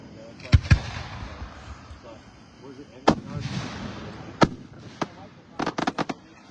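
Fireworks burst at a festival in sharp, loud booms, scattered at first and then a quick cluster of several near the end, with people chatting between the blasts.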